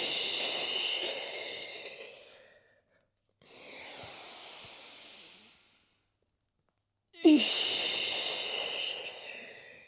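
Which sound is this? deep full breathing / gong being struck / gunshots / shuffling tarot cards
deep full breathing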